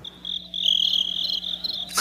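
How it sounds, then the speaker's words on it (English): Crickets chirping as a short sound effect, a steady high-pitched trilling that swells slightly and continues alone for about two seconds before a brief noise at the end. "Crickets."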